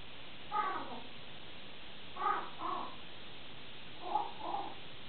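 An African grey parrot imitates a turtle dove in three separate pairs of hoarse, cooing calls, evenly spaced and fairly quiet against a hushed indoor background.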